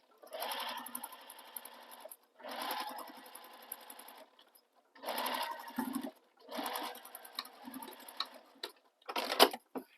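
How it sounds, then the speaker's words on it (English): A sewing machine stitches a stocking's lining in four steady bursts of rapid mechanical whirring, each a second or two long and separated by short pauses, with a brief final run near the end and no talking. "So now we're going to stitch these"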